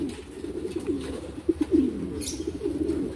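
A breeder pigeon hen cooing in a loft: soft, low, rolling coos repeating over a steady faint background hiss, close by and fairly quiet.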